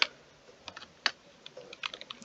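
Keyboard typing on a computer keyboard, a quick run of sharp clacky keystrokes in an irregular rhythm, close and fairly quiet with no speech.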